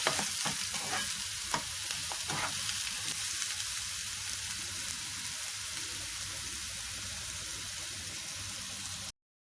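Chopped onion fries in a spoonful of ghee in a pan, a steady close sizzle with a few scraping stirs early on, continuing evenly with no talking.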